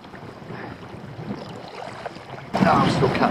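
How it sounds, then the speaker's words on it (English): Wind gusts buffet the microphone while kayaking along the dunes at Walney North End, a steady rushing roar that swells sharply louder near the end. "Now I'm still catching the wind here."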